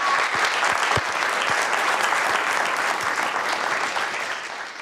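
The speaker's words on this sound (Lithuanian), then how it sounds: "Plojimai jam." An audience claps loudly and continuously for the winner of a Lithuanian quiz show, a dense steady applause that eases slightly toward the end.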